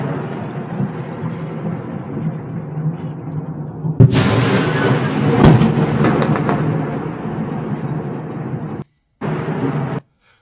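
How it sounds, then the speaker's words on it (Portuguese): A large explosion at the Elektromash factory in Nova Kakhovka, heard as a sudden loud broadband blast that erupts over steady low rumbling, rolls on for several seconds, then cuts off abruptly with a short final burst. "É a explosão, né?"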